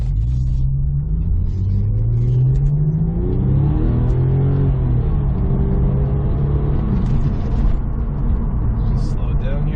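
A lowered 2003 Porsche 911 Turbo rolls slowly through a left turn in first gear, its engine rumbling steadily and loudly from inside the cabin with a slight rise in revs as it turns.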